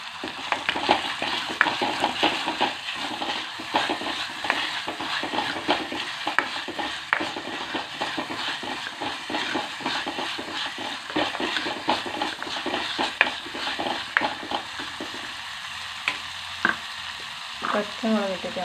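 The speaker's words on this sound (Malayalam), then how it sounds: "പച്ചമുളക് ഇട്ടിട്ട് നമുക്ക് വെണ്ടയ്ക്ക ഇട്ടിട്ട് നല്ലോണം വഴറ്റി കൊടുക്കുക." Green chillies and okra sautéing in a pan, a continuous sizzle broken by frequent scraping stirs of a spoon, close and fairly loud throughout.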